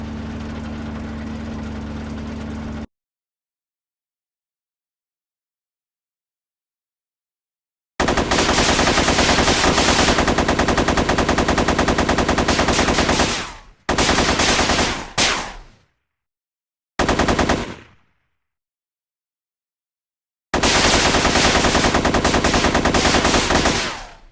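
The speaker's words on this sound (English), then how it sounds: "Certain infantry fighting vehicles now have working passenger firing ports." Bursts of automatic gunfire from the passenger firing ports of an infantry fighting vehicle in Minecraft's Flans Mod, loud and close, coming in several long rapid strings and short clipped bursts separated by silence, over a low engine idle.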